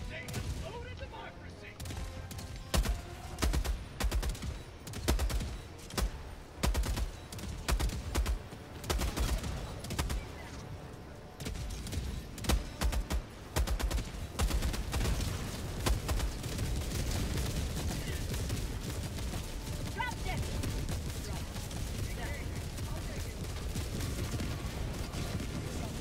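Rocket sentry turret in Helldivers 2 firing repeated heavy volleys alongside dense gunfire and blasts, loud and continuous throughout, with rapid bursts and booming impacts.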